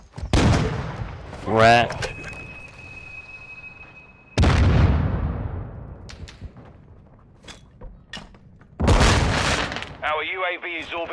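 Gunfire and explosive bursts in the Call of Duty video game, sharp broadband blasts at the start, midway and near the end, with a radio voice talking briefly between them.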